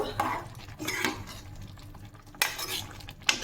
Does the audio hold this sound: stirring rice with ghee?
yes